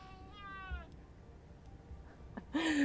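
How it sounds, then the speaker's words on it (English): An angry house cat lets out a drawn-out, wavering meow near the start and a sharper yowl at the end, both close and fairly loud over a soft background. "my cat is so angry right now."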